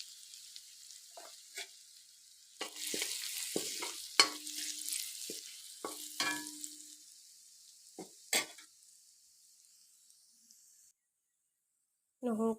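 Garlic and turmeric frying in a pan, with soft intermittent sizzling and stirring scrapes in short bursts, then near silence before a brief final clatter.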